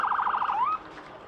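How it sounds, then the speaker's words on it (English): A distant emergency siren in Chelmsford, heard during a cricket match, warbles rapidly, then sweeps upward once and fades out, faint against a low background murmur. "as we hear the emergency sirens around Chelmsford"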